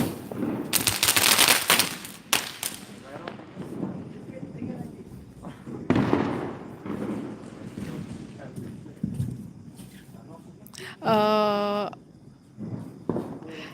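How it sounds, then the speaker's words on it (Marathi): Sharp bangs and crackling bursts of Diwali firecrackers going off at intervals outdoors at midnight in Karad city, with people talking and wind noise around them. "इथे मुलं फटाके वाजवतात"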